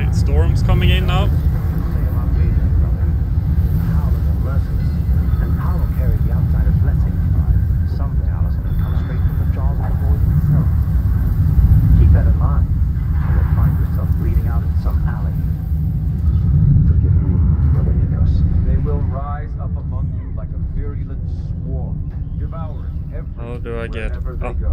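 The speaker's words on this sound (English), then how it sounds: "storm's coming in now" Storm rumbling in the video game Dishonored 2: a deep, continuous low rumble that holds steady throughout and eases slightly toward the end, under occasional voices.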